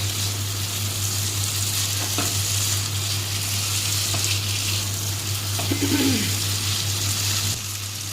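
Soybean sautéing in a pan, a steady close sizzle with occasional spoon scrapes, a low hum running underneath and a faint bird cooing in the background, nobody speaking.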